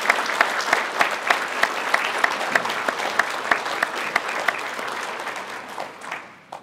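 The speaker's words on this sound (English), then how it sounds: "So let's give our teachers a round of applause." Sustained applause from a banquet audience for teachers, many hands clapping steadily for several seconds before tapering off at the end.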